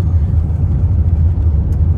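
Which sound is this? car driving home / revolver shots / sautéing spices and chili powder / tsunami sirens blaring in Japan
car driving home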